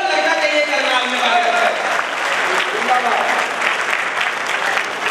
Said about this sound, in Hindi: एक बार दोनों हाथ ऊपर करके जोरदार तालियां बजाइए